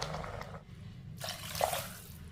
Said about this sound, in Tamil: இப்போ நம்ம 2 கப்பு தண்ணி ஊற்றிக்கிடுவோம்.